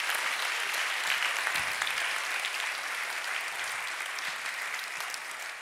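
Audience applause at the Jugend forscht 2024 regional science competition award ceremony in Augsburg, a steady, even wash of many people clapping across the whole stretch, moderately loud with no voices above it.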